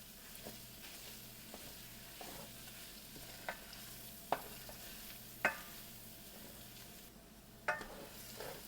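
Tomato paste sautés quietly in a pan for a ground turkey dish, a low steady sizzle broken by occasional clinks and scrapes of a utensil stirring, heard close with no talking.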